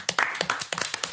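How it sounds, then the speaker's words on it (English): A small group clapping and cheering in a room after naming Torabhaig the scotch of the year, with quick irregular claps mixed with excited voices throughout. "Clap it up for the Torabhaig."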